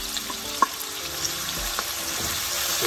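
Sliced onions fry in hot oil for a pilchard fish curry, a steady close crackling sizzle with a few soft stirring knocks, no voices.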